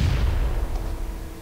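A grenade blast rumbles in a PUBG Mobile match, a loud, deep, low boom that fades over a second or so.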